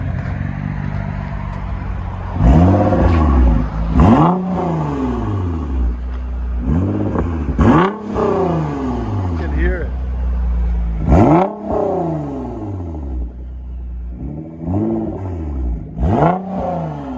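A car engine with aftermarket exhaust revs hard to about 4,000 RPM in repeated bursts, rising and falling in pitch over a steady loud idle, close by with no talking.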